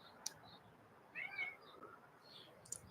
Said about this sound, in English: I hear him. Oh, our little ecstatic yoga kitty cat.